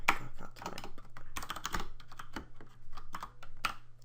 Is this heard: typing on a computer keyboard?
yes